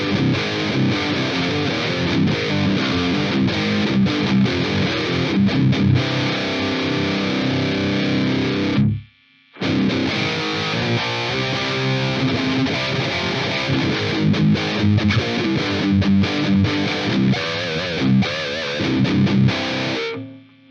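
Heavily distorted electric guitar runs through a Joyo Vintage pedal into an Orange Dark Terror amp, loud dense chugging chords and riffs with one brief silent break midway, no talking.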